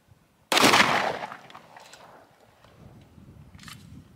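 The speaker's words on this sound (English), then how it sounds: "We're gonna go ahead and hit this one more time with the 9mm, see what it does" A single 9mm shot from a CZ pistol into a thin slab of bullet-resistant concrete, sharp and loud at the start, then a fading rumble and a faint later click, with no voices.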